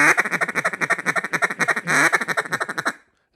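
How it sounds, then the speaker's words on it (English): Quick run of slurred quacks blown on a duck call, about twenty rapid, evenly spaced notes rolling into a feed-call rhythm, loud and close, then stopping abruptly. "So I'm blowing a lot of those slur quacks, those slur notes into that feed."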